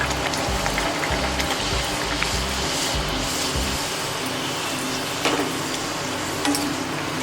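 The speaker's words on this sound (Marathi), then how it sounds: "आता हे बघा पुरी पण तळून घेऊया" Puris deep-fry in hot oil with a steady, noisy sizzle and bubbling that runs throughout. Low knocks and clatter come through in the first half, and a few sharper crackles appear later.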